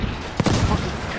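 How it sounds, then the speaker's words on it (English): Artillery fire in the Battlefield 5 video game, a burst of booming gunfire with two sharp blasts amid constant loud battle noise and brief voices. "There's an artillery"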